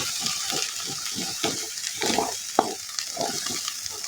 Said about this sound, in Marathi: तर बघा तसं मसाला परतून घेते मी.